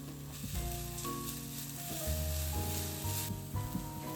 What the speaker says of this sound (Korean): 팬에 기름 두르고 다진 양파 볶아줍니다.